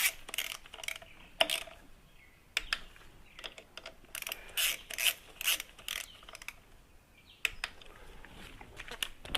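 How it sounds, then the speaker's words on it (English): A hand ratchet clicks in short bursts while torquing clutch bolts on a 2008 Harley-Davidson during an SE clutch installation, with close, quiet mechanical clicking and rasping across the clip. "make sure that we have everything torqued up to spec"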